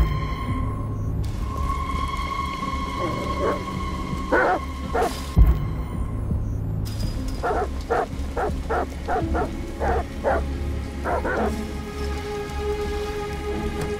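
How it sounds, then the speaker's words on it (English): Dogs bark repeatedly in the video game Detroit: Become Human, several sharp barks in clusters over steady rainfall, moderately near with no speech. "Goddamn dogs. What the fuck are they barking at?"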